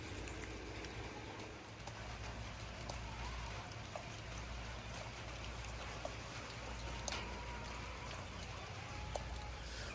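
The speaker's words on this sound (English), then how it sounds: "we finally getting a little rain down here in Mississippi" Steady light rain in Mississippi patters continuously on surfaces outdoors, with scattered sharper drips over a low rumble. The sound stays even and fairly quiet throughout, with no voices.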